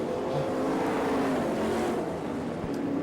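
Sprint race cars roar along the straightaway of a dirt track at an All Star Circuit of Champions race in Florence, Kentucky. The engines drone loudly and continuously, with a sustained revving whine and no talk over it.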